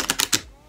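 A silky but grippy tarot deck is shuffled by hand in three or four quick, crisp riffling bursts, close and clear, ending in a short fading rustle.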